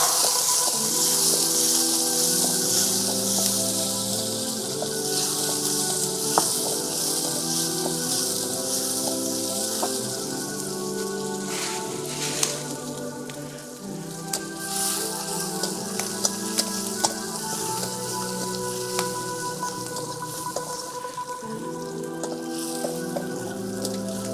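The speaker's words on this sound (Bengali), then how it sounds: "তেলটা গরম হয়ে গেছে দিয়ে দেবো পেঁয়াজ কুচি একটু নেড়ি চেড়ি নেবো" Chopped onion sizzling in hot oil in a village kitchen, a steady loud frying hiss with occasional clicks and scrapes of stirring, and music playing softly underneath.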